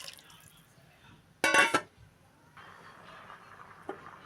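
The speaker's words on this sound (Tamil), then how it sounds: "தேவையான அளவு நம்ம தண்ணி சேர்த்துக்கலாம்" A brief burst of water pouring into a pot of betel leaf pepper rasam, followed by a soft bubbling simmer and a small clink.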